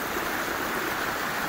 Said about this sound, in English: I came across this little stream, quasi waterfall